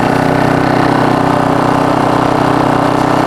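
Portable power generator engine running steadily at a constant idle, a loud close continuous drone with even mechanical vibration and no talk.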